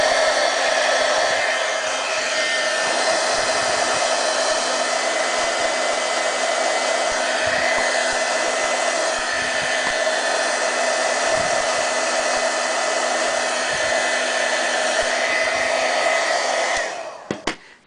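A heat tool blows hot air steadily onto a melted felt brooch, a loud, constant whooshing roar that runs unbroken for the whole stretch before cutting off at the end, with no voices over it.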